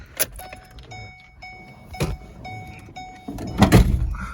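A 2008 Ford Focus door thuds shut partway through, with clicks and a short whirring mechanism before it and a rustling clatter afterward, no talking.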